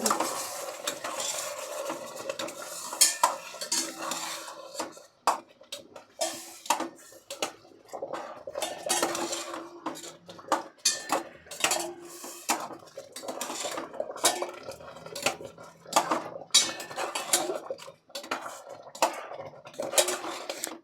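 A utensil scrapes and clinks against a pan in quick, continuous strokes while stirring rava kesari, with a faint sizzle underneath.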